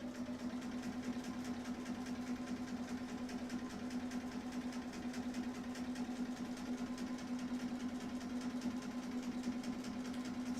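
A sewing machine stitching in a steady, fast mechanical whir with a constant hum, running continuously at moderate volume with no talk over it.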